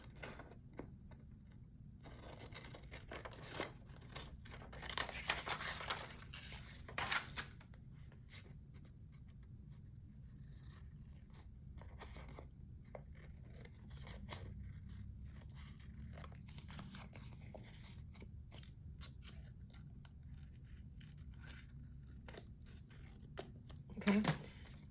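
Scissors cut around glued paper material for a hidden pocket, giving soft, close snipping and scraping at a steady rhythm with quiet pauses between cuts.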